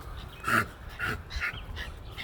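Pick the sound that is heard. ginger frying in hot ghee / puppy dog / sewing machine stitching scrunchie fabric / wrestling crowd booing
puppy dog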